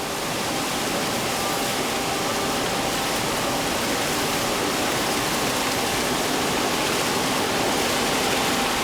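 Whey drains through the strainer screen of a cheddaring machine in a cheese plant, a constant dense rushing wash of liquid and machinery that holds steady and loud throughout.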